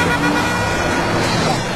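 Vehicle horns toot over a dense, loud wash of street traffic at a busy Pune junction, with engines and road noise filling the background continuously.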